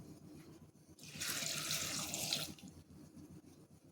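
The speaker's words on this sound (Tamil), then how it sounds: "அதுக்கு தேவையான அளவு தண்ணி ஊற்றிக்கலாமா" Water pours from a tap into a pressure cooker while vegetables are cooked, a steady hissing gush lasting about a second and a half amid quiet kitchen background, with no talking.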